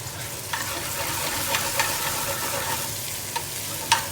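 Chillies fry for a hot chicken tikka, a steady close sizzle crackling in a pan with a few sharp pops and light stirring scrapes.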